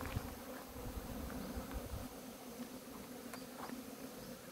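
Hornets buzz steadily and close during a hornet hunt, a dense insect drone running the whole time with a few sharper passes from individual wings.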